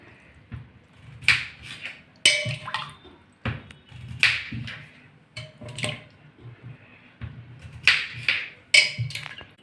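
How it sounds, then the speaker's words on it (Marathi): Cut potatoes, meant for a fasting-day potato papad, drop into a pot of water one after another. Each lands with a soft, close splash or plop at irregular intervals, with quiet sloshing in between. "बटाटे आपण कट करून घेऊया आणि पाण्यामध्ये घालून घेऊया।"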